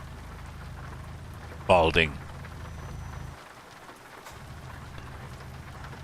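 Rain in the video game Euro Truck Simulator 2, a steady hiss of falling drops throughout, briefly broken by a short spoken word and a dip in the low rumble.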